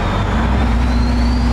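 A truck engine hums and drones steadily, heard from the cab with the windows down while driving near Atlanta, a constant close rumble with road noise and no voices.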